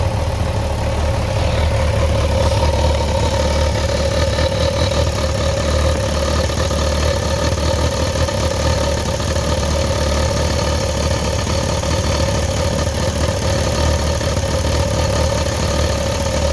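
A 2019 Kawasaki Versys 1000 SE LT+ engine idles during throttle body synchronization, a loud, close, steady hum and rumble that holds constant without revving.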